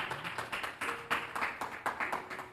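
A church congregation claps in a brisk, steady rhythm. The claps are close and moderately loud and carry on without pause.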